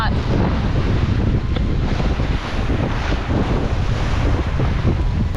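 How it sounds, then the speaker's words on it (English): Strong wind at sea off the Peloponnese, Greece, roars steadily across the microphone, with broad rushing noise and the wash of sea water beneath it, loud and continuous throughout. "it's pretty windy"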